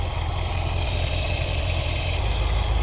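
A 1973 Ford Econoline engine fitted with an Edelbrock carburetor idles in park at about 800 RPM, giving a steady, close, unbroken low rumble with even vibration throughout.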